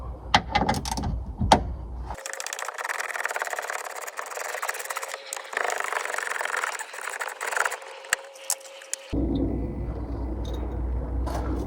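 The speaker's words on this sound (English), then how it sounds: "So the first thing we're going to be unbolting is the seatbelt." Ratchet wrench loosening the seatbelt anchor bolt in a 1999-2004 Ford Mustang convertible interior, a steady run of fast mechanical clicking and rubbing that stops and restarts, close and fairly loud with no talking.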